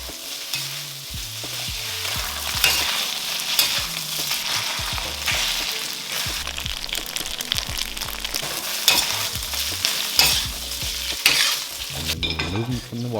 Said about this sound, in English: get that wok smoking hot, and in goes the tofu and the mushroom. We're going to sear them for a few minutes on both sides